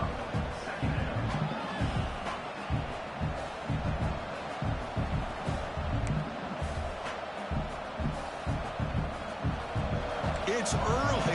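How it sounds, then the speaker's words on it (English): A roaring football stadium crowd at a UTEP versus UConn game gives off a steady dense wall of cheering and noise, loud throughout, with faint commentary voices mixed under it. "It's early, but this crowd is fired up. Listen to this noise here."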